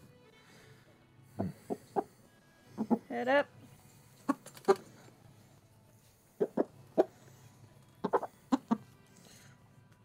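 A chicken in the video game Dragon Age Origins gives short clucks in scattered clusters, some in quick pairs and trills, moderately close, while a person speaks briefly between them.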